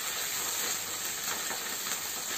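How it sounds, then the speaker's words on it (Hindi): Fish frying in a pan with three spoons of oil over a high flame, a steady dense sizzle and hiss without pause or speech. "अब इनको फ्राई कर रही हूँ, फ्राइंग पैन में इनको फ्राई करने दिया है, और इसमें 3 चम्मच तेल डाला है मैंने।"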